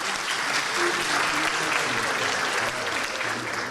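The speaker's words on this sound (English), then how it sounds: "We want to give them a round of applause and thank them for doing this for us today." Audience at an MS symposium applauds in a sustained, even wash of clapping that holds at a steady level throughout.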